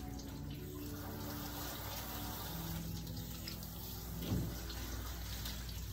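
Water runs steadily from a sprayer while a Maltese/Shih Tzu mix dog is bathed during grooming, a constant faint rushing with a brief splash near the end and no voices.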